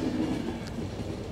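A train runs in the video game The Final Station, with a steady, close rumble and a faint clatter that continues throughout with no pauses.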